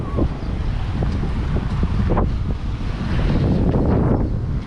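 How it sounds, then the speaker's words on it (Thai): Strong gusty wind buffets the microphone at an outdoor shoe market in Bangkok's Rong Kluea area, a steady loud rumble with bursts of distant background activity and no talk. "ตอนนี้ลมมันจะแรงนิดนึงนะครับผม"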